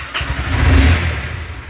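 A modified Honda CBR motorbike that is due for servicing cranks and fires up, giving a short, close burst of engine noise that settles into a rough, steady idle.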